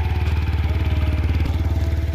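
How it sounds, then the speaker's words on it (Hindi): A motorcycle engine in Bageshwar district runs close and loud with a steady, rhythmic putter, holding an even beat throughout with no talk. "तो ये है माही पहाड़ी ब्लॉक की बाइक, इसको स्टार्ट करते हैं"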